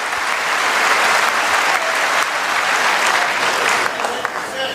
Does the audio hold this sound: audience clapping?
yes